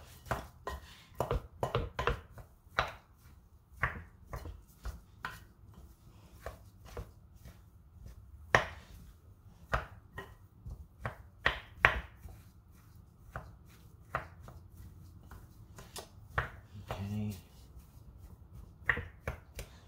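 Homemade potato salad ingredients are mixed in a bowl, giving a run of irregular sharp clacks and soft wet thumps from the utensil striking the bowl, close and with no voices.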